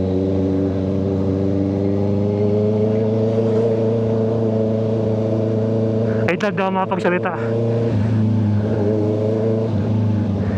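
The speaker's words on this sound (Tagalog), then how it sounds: "Narinig ba ng malakas yung exhaust?" A 2025 Honda CBR650R motorcycle fitted with an SC Project exhaust idles steadily with a deep tone, then snaps through a short burst of sharp revs before settling back, with someone talking over it.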